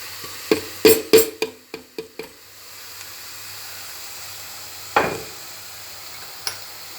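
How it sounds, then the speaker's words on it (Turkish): Blended tomatoes are poured into a hot sizzling pan, with a series of sharp utensil knocks and clatters at first, then a steady soft hiss, a single louder clack, and fainter sizzling after. "Daha sonra domateslerimi robottan geçirdiğim domateslerimi üzerine döküyorum"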